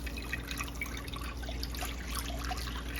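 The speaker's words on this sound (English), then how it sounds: "I'll put the water in now." Water poured into a mixing bowl with yeast for homemade bread dough, a steady soft trickling and splashing, faint and close, with no talk.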